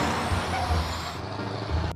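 Sand truck air brake letting out a loud, sustained broadband hiss that cuts off abruptly near the end, with a low engine rumble underneath.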